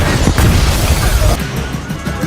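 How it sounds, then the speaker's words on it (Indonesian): A loud, rumbling explosion with heavy low booms and crackling debris, rolling on for a couple of seconds. "Hingga terjadilah ledakan yang menghancurkan ruangan, Laksamana Pilar beserta isinya."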